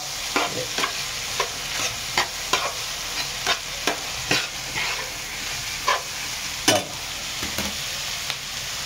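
Schezwan fried rice with cabbage is stir-fried in a pan, with a steady sizzle broken by regular scraping strokes of the spatula, loud and close, with no talking.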